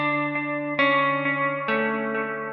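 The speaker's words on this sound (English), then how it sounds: "I keep what I call the basic patch, which is the delay reverb combo in the Specular Tempus" Guitar run through a delay-and-reverb combo patch on a Specular Tempus pedal, with sustained chords struck three times and long ringing, echoing repeats and a reverb wash trailing between strikes.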